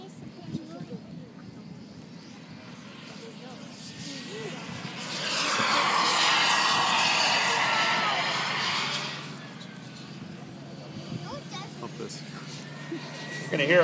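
A five-meter RC jet glider performs aerobatics, pulling vertical and flipping over the top. Its jet whoosh swells loudly as it passes near, holds for a few seconds, then fades away, with a voice commenting over it.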